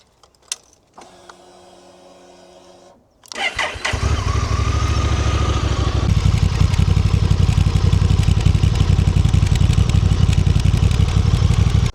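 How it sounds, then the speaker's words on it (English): A Honda NT 1100 motorcycle with its big stock exhaust starts up after a brief electrical whir, then settles into a loud, steady low rumble that holds close and continuous to the end. "The bike I'm riding has original exhaust, which is quite big, but it sounds pretty nice."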